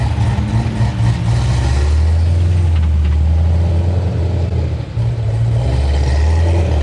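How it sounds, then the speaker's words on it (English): A built, low-compression, heat-soaked Nissan VQ engine car rumbles loudly and close, holding a deep, steady drone with a brief dip partway through before the note returns. "me and Corey's cars sound like almost identically the same"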